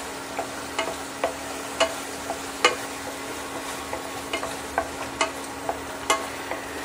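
Chicken being mixed and fried in a pan for a dry aromatic chicken dish with tomato puree, a steady sizzle under repeated sharp scraping clicks of a spoon against the pan, close and alone.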